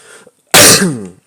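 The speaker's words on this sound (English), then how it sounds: "Sorry about my cough, I'm still a little sick from allergies" A single harsh cough from someone still sick with allergies bursts out loud and close, with a raspy throaty tail lasting under a second, preceded by faint quiet breathing.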